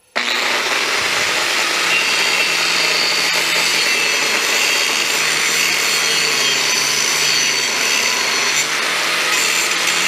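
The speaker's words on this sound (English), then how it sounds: "I'm going to go ahead and grind out the backside now." An angle grinder runs steadily and loudly, close up, grinding out a crack on the back side of a bush hog mower blade during a blade repair, a continuous harsh abrasive whine with no talk.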